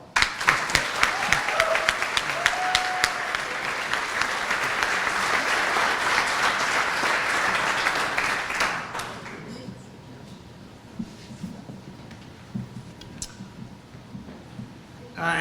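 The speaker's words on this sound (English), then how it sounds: "let's give them a big round of applause" Audience at a high school hall of fame induction banquet applauds, a dense, loud burst of clapping for about nine seconds before it thins out to a few scattered claps and quieter room noise.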